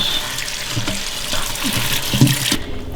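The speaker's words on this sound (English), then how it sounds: "You're just washing your lettuce." Lettuce is washed under a running kitchen tap, a loud, close, steady splashing of water that cuts off just before the end.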